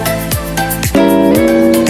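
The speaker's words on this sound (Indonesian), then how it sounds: "itu adalah bunyi dari salah" Wrong-answer effect from a Unity fruit-matching educational game: a loud, synthetic sequence of buzzy tones, each ending in a quick downward swoop, repeating several times in under two seconds with nothing else heard.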